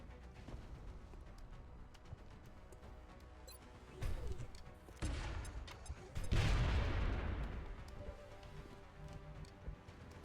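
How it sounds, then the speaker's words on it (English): In the strategy game XCOM Long War, a grenade explodes with a deep, booming blast that rolls out after a few thuds and rumbles, sounding fairly soft amid background game noise. "Let's commit to this grenade here,"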